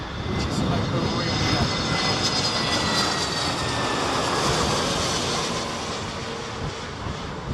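An airliner lands at Heathrow airport in high winds during a storm, its engine roar loud and sustained, swelling and then easing slightly, with wind noise mixed in.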